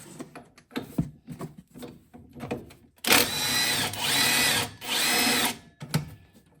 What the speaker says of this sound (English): Go ahead and take our top shock bolts off.